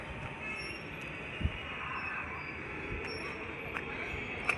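Trains at Vijayawada railway station, heard from up on Gandhi Hill, give a distant, low rumble with faint wheel squeals and occasional soft clanks, steady and quiet throughout.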